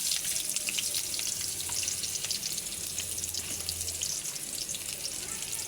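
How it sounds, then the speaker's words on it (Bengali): Onions frying with cumin in hot oil in a wok, a steady broadband sizzle and crackle filling the whole stretch, close and fairly loud, with no voices. "দেখতে পাচ্ছেন কড়াইয়ে তেল হয়ে গেছে এবং জিরা দিয়ে দিয়েছে এবং পেঁয়াজ দিয়ে দিচ্ছি।"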